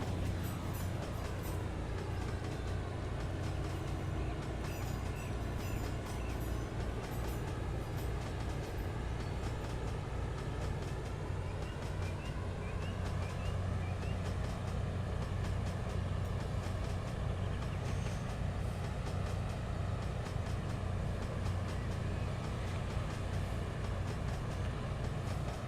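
Class 156 diesel multiple unit engines run steadily on the West Highland Line, a loud continuous low rumble and drone with rail noise, close and unbroken throughout with no talk.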